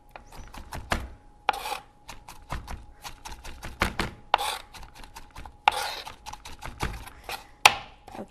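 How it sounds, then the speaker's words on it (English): Knife chopping vegetables for a salad on a cutting board, a quick uneven series of sharp close thuds and clicks, sometimes in rapid clusters, with no speech. "I'm actually going to chop these just a bit more"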